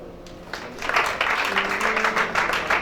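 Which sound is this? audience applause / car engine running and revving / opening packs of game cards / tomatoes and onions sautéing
audience applause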